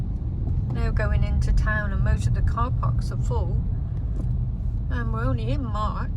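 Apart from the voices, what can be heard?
road traffic, cars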